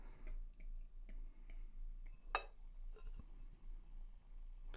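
Over-pressurized beer pours from a bottle by itself at Oast House Brewery, foaming with faint, close drips, fizzing and wet squishing ticks, plus one sharper pop, over a low steady hum.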